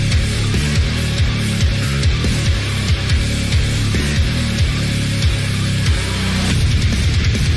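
A track from the Doom Eternal video game soundtrack: loud, dense, low-tuned metal with heavy chugging riffs and driving percussion, playing continuously with no voices.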